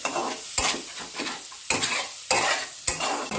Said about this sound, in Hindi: इसको अच्छे से सौटे करेंगे, अच्छे से भुनेंगे।